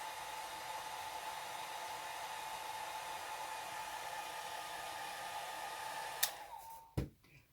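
Hair dryer blowing steadily on alcohol ink artwork, a constant close whooshing hum that cuts off near the end with a couple of clicks.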